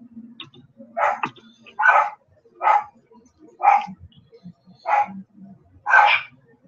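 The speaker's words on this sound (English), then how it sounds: "I can hear my dog's bark resonating from our bass drum out there" A dog barks six times in a slow, evenly spaced series, each bark loud and close, with a faint low resonance from a bass drum in a living room and quiet rustling between barks.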